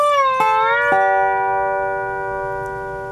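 A dobro played with the bar down rings out several strings at once, a bright chord sliding up in pitch then sustaining and slowly fading, alone and close.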